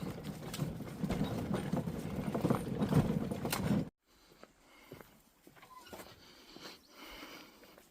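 A harnessed horse at work on a hay harvest, with a loud stretch of hoof clops and rattling, clanking gear for about four seconds, then quieter scattered knocks and creaks further off.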